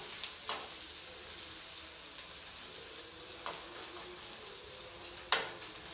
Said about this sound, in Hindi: हल्का सा भून जाए तब मैं डाल दूँगी जिंजर, गार्लिक, अदरक, लहसुन। और इसे भी मैं थोड़ी देर तक भून लूँगी हल्का सा।